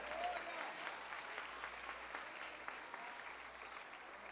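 Steady applause from a congregation at a church worship service, sustained clapping at an even level throughout, with faint voices mixed in.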